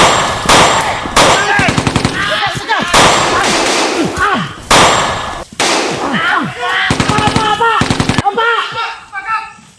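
Loud bursts of video game gunfire crack out in rapid volleys, with short pauses between them and a voice calling out over the shooting.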